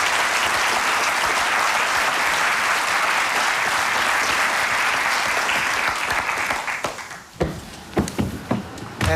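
An audience at a demonstration and judging event applauds steadily and loudly, then the clapping thins to a few scattered, separate claps near the end.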